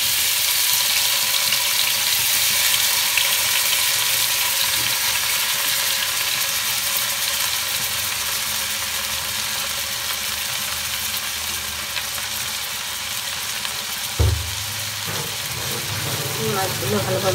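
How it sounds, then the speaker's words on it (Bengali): Fish frying in hot oil in a frying pan gives a steady close sizzle throughout, with a short clatter of utensil or pan noise partway. "মাছগুলো ভালোভাবে ভাজা হোক"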